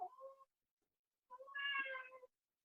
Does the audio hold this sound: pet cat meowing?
yes